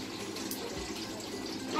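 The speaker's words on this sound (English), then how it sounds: "We're going to put the water into the tea bag." Water pours steadily from a kettle onto a tea bag in a soft, continuous trickle, quiet and close, with faint bubbling throughout.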